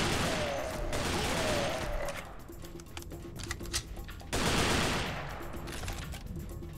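Rapid assault rifle fire in the video game Serious Sam 3: BFE, sustained automatic bursts with a brief lull in the middle before another loud stretch of shooting, heard without talk.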